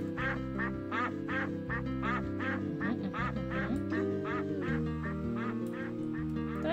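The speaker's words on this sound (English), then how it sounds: "As you can see, there's a duck there." Repeated cartoonish duck quacks from the flash game Fly Guy, a steady run of short calls over continuous game music, fairly loud and close.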